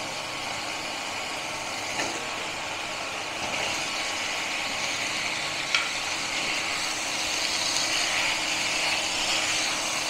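Potato, ginger and garlic frying together in hot oil for a Bengali fish curry, a steady dense sizzle throughout with a few faint clinks of stirring.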